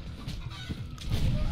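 Exploding chickens fired as projectiles in the game Happy Room, giving brief clucking squawks over a noisy, rumbling game background, fairly faint.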